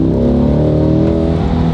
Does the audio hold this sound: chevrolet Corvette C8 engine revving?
yes